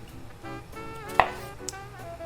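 A knife cutting an onion on a board, a few soft close cuts followed by one sharp knock of the blade meeting the board and a lighter tap after it, with no talking.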